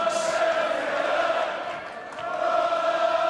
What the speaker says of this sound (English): Crowd getting behind Phil Taylor